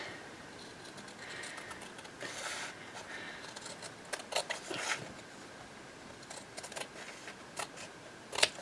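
Faint, sporadic snips and crisp cutting sounds of fabric scissors through material, quiet and close with gaps between cuts.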